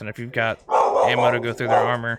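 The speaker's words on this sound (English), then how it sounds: "Sorry about the dogs in the background." Dogs bark in the background, several yips and barks mixed in under a man's close, continuous talk during gameplay commentary.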